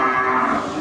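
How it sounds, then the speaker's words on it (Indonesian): Cattle moo at a livestock market, from a Simmental-Brahman cross bull with pale whitish-yellow hide; one sustained, loud, close low bellow with no talk. "Itu persilangan sapi simental dengan sapi Brahma yang bulu agak putih ya, kuning langsat ya"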